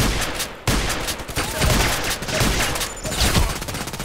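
Gunfire from a KelTec KSG pump shotgun in the video game Contract Wars, a dense, continuous crackle of shots and battle noise with several louder blasts, fairly loud and close, no talking.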